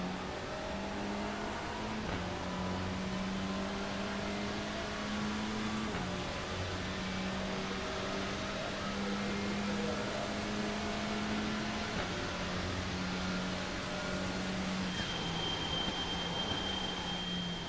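Race car engines in iRacing drone steadily throughout, a continuous loud engine tone with gradual pitch shifts as cars run the track, no pauses.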